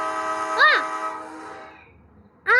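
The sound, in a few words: train horn as train starts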